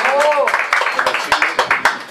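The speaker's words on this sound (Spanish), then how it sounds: "El aplauso bien bonito que sea para ella." Scattered hand claps ring out at an uneven pace at a mariachi birthday serenade, starting while a sung note trails off and a voice chimes in.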